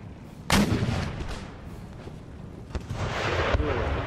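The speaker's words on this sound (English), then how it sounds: "Artillery, engage the colonial light cav." Artillery fires in the Empire: Total War battle game, a loud booming cannon blast followed by a rumbling tail, then a second sharper shot with a swelling rush of battlefield noise.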